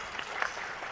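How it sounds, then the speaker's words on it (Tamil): Applause from an audience at a Tamil film event, a steady dense wash of many hands clapping at moderate level, faint and somewhat distant throughout the short stretch, with no speech over it. "அவருக்காக ஒரு கரகோஷம் நம்மளே கொடுத்துக்கலாம்"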